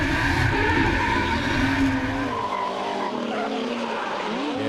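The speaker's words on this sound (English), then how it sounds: "Just listen to this 2J scream on the in-car as we go for a ride with Bo." Toyota 2JZ-powered drift car heard from an in-car camera, the engine screaming at high revs with shifting pitch sweeps and tire squeal, loud and continuous throughout.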